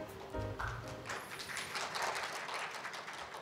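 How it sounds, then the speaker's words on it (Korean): A lecture audience at a Korean media literacy event gives a short round of applause. A few low taps come first, then a dense patter of clapping that holds steady. "박수 부탁드리겠습니다."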